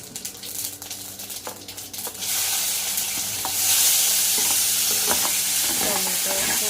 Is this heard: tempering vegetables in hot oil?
yes